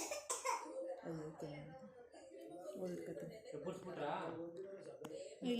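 A young child coughs briefly a couple of times at a family birthday gathering, under steady adult talk.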